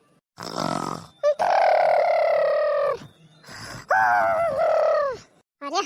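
A cartoon woman snores loudly in long, tonal, groaning breaths, three or four drawn-out snorts with short gaps between them, close and alone.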